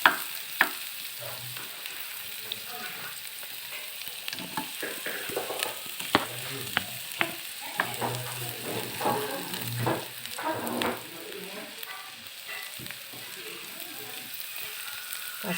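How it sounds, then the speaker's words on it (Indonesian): Garlic and onion sizzle and fry in an oiled pan for a sirloin steak side dish, a soft continuous crackle broken by scraping stirs and occasional clinks of the utensil. "Kita tumis bawang bombay"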